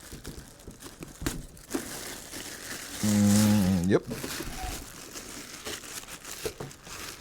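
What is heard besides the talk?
plastic bag crinkling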